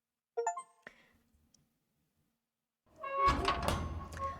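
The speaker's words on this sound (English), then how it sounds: "Maura closes the door behind Helena." A door closes in the visual novel game Cannibal Tales: a soft thud and a second faint knock, a stretch of near silence, then a longer, louder clattering burst.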